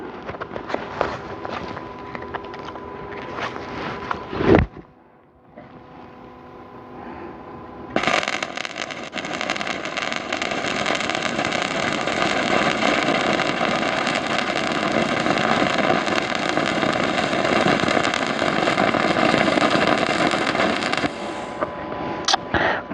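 A Paton VDI 250P welder runs in MMA pulse mode, stick arc welding with a loud, steady crackling hiss that lasts about fifteen seconds after a brief pause, preceded by earlier arc sizzle.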